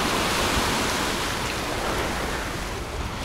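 Surf on a beach in Alanya at sunset, a broad continuous wash of breaking waves with some wind rumble, steady and fairly close, with no voices.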